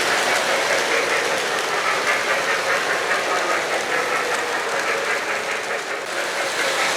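A model Christmas Polar Express train runs around a home holiday display track, giving a steady, close, continuous rattling rumble with faint clicking throughout.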